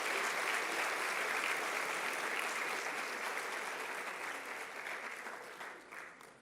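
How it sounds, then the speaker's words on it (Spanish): Church congregation applauding for the Lord during a Spanish-language revival sermon, a dense, steady wash of hand claps that holds loud for several seconds before thinning and fading toward the end, with no talk over it. "dele un aplauso al Señor"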